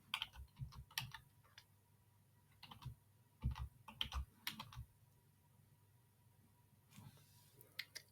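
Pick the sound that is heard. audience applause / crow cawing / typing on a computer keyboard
typing on a computer keyboard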